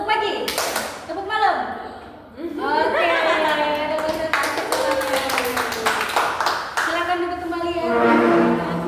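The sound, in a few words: group clapping in a clap concentration game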